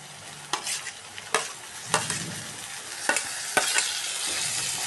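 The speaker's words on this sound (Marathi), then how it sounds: "आता त्यामध्ये टोमॅटो घालूया." Chopped tomatoes fry with onions in a pan, giving a soft, continuous sizzle. Several distinct spoon strokes scrape and stir through the mix at a steady pace, with no talking.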